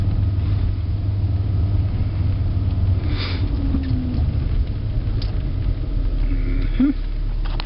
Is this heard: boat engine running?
yes